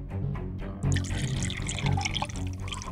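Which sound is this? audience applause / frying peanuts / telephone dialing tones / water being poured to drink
water being poured to drink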